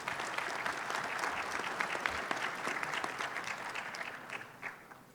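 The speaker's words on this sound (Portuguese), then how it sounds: "Salva de palmas para o Péricles, por favor" Sustained applause from a conference audience, dense clapping that holds steady and slowly thins toward the end.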